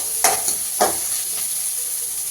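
Green chillies sautéing in oil while puris are made at home, a soft continuous sizzle and hiss with two or three brief stirring scrapes near the start, fairly close and steady.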